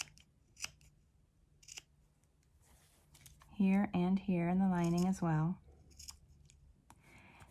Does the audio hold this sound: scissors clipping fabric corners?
yes